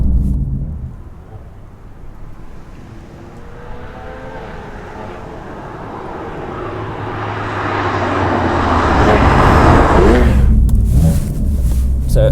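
A BMW F80 M3 fitted with Bilstein B6 EDC adjustable dampers drives over a very bumpy road, its engine and road rumble steady at first, then swelling louder toward the end.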